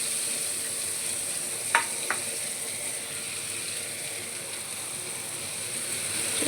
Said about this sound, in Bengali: এবারে দেখো কড়াইতে আমি কিছুটা পেঁয়াজ দিয়ে দিলাম